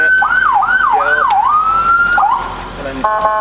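A 2003 Ford E450 ambulance siren wails loud and close, cycling through rapid rising-falling sweeps before shifting to a long steady tone and cutting off, followed by a brief different warning tone.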